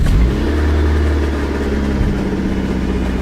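After a cylinder head repair, a car engine catches and settles into a loud, rough idle with a brief rev, close up and with no talk.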